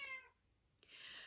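A house cat meows once, brief and close but quiet, followed by a short pause and a faint breathy sound.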